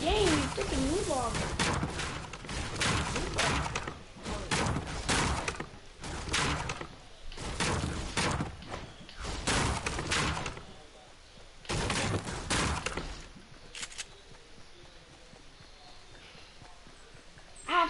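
Video game shotgun blasts, a burst of sharp loud broadband shots in irregular clusters with short gaps, mixed with footstep-like clatter and some talk, fading to quieter ambience near the end.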